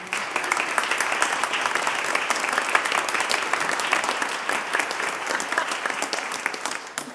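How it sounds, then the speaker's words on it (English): A church congregation gives sustained applause for teachers and students during a Sunday service, dense steady clapping filling the room for several seconds before tapering off at the end. "these teachers, these students, they deserve a round of applause"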